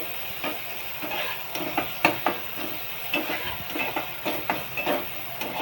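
Black masala paste being roasted in a pan gives a soft, steady sizzle, broken by repeated scraping stirs of a spoon at an uneven rhythm. The sound is close and moderately quiet, with no talking.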